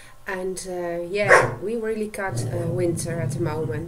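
A dog barks and yips indoors on a cold winter day in the Netherlands, sharp barks overlapping a person talking at close range.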